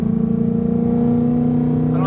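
A 2019 Mustang GT with added BMR suspension and a drag alignment runs steadily through fast turns, its engine droning loud and even with a slight rise near the end.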